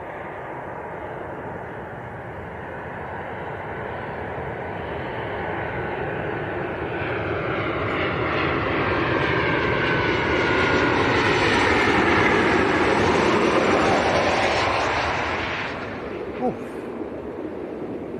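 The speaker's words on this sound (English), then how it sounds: "So Ryanair from Gdansk about to come into sight." A Ryanair passenger jet arriving from Gdansk roars in to land at Leeds Bradford Airport, its engine noise swelling steadily to a loud peak and then dropping away at the end, with a faint voice briefly audible underneath.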